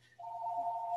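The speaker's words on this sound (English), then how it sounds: "you probably hear my phone ringing" A phone rings close by after a brief quiet start, sounding one steady electronic tone that holds to the end over a faint low hum.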